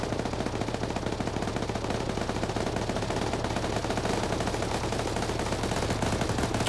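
Dense, continuous video game gunfire, rapid automatic bursts crackling without pause throughout.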